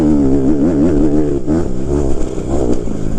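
A 2014 Honda CRF 150R dirt bike engine revs up and down in rising and falling sweeps, loud and close, with the decompression removed, running continuously without talk.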